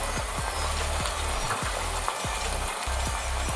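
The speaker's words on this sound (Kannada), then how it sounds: "ಇದನ್ನು ಚೆನ್ನಾಗಿ ಫ್ರೈ ಮಾಡ್ಕೊಳ್ಳೋಣ." Onion and tomato fry in a pan for mushroom pulao, a dense loud sizzle that stays constant throughout, broken by low thumps as the mixture is stirred.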